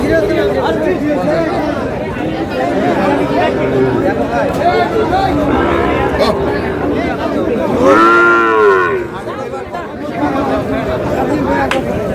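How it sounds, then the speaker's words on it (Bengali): Sahiwal bull calves at a busy cattle market in Cumilla give a loud, drawn-out moo near the middle, surrounded by constant crowd chatter and bargaining voices. "শাহিওয়ালের ষাঁড়।"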